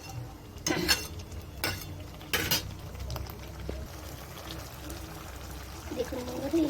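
Butter chicken gravy poured into a bowl in a home kitchen, several short splashy pours with clinks of a spoon or ladle against the dish, quiet and close.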